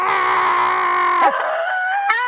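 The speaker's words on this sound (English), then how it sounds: "Okay, screaming booth. Screaming booth." A person screams into a screaming booth at an outdoor arts festival, giving one long sustained loud wail that drops in pitch, then a second shorter cry, close and alone without talk.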